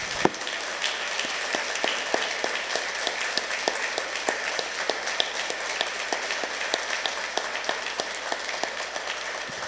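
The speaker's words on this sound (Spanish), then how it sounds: "Les pido un aplauso para esas personas que están aquí" A church congregation applauds together in a long, even burst of clapping, dense and sustained with sharp individual claps standing out, filling the room at moderate distance for the whole stretch.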